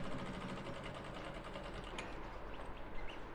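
A sewing machine stitching black fabric for a senator top, running steadily and close up in a continuous whirring hum with no pauses and no talking.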